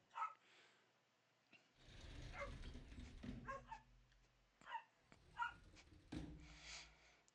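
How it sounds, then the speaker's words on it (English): Several dogs outside give small yaps, whimpers and short barks in scattered bursts, fairly distant and faint, with quiet gaps between calls. "You might hear some dogs yapping"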